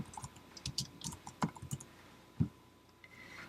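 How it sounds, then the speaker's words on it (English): Keys tapped on a computer keyboard while entering a name in a print layout program, a quick run of light, close clicks with a pause and a final louder keystroke. "type your name."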